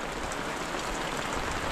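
Heavy rain falls steadily as a dense, continuous hiss, loud and uniform with no breaks.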